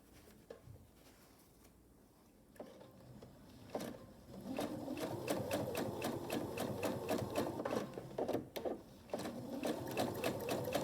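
A sewing machine quilts a braided table runner, quiet and intermittent at first, then stitching steadily at close range with a rapid mechanical rhythm and short pauses to reposition.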